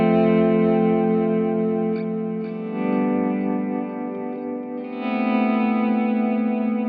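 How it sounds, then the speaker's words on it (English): Electric guitar volume swells run through a TC Electronic Nova System's analog echo and modulation vibrato, sustained distorted chords blooming and fading with wavering pitch and echo tails, loud and continuous with no talk. "So what you're hearing there is just some analog echo, and then with the vibrato as well in the modulation section."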